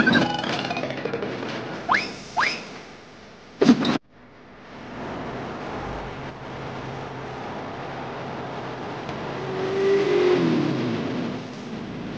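A motorbike engine revs in short bursts at first, then settles into a steady running drone with a brief rise in intensity near the end, fairly close and loud with no talk over it.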